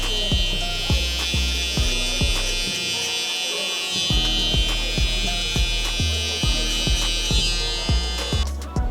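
A steady electric shaver buzz runs throughout during a burst fade mullet haircut, with regular rhythmic pulses as it passes repeatedly, close and fairly loud.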